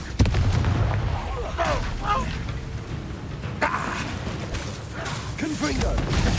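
Confringo spell blasts in the Hogwarts Legacy video game, a dense, loud stretch of booming bursts and crackling impacts layered with battle noise, mixed with voices.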